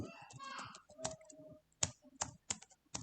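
Clicky computer keyboard being typed on while entering a short line of code, a string of distinct keystrokes in uneven bursts, close and fairly quiet, with someone talking over the early part.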